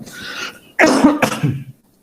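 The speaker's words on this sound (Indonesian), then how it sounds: "Siapa tahu nanti batuk saya sampai ke situ ya" A person coughs during a webinar: a loud, close throat-clearing rasp followed by a couple of sharp coughs, then silence.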